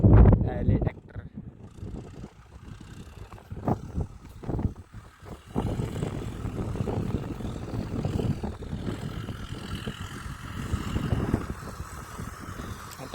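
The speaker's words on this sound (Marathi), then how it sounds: "सोनालिका आहे, सोनालिका ट्रॅक्टर." A Sonalika tractor engine drones on in the open, its rumble rising and falling beneath people talking, with gusts of wind buffeting the microphone.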